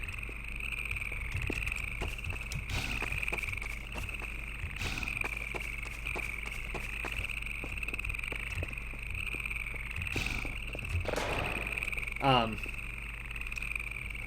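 A constant high cricket trill from a game scene drones loudly throughout, with a voice talking over it and a few brief clicks and rustles.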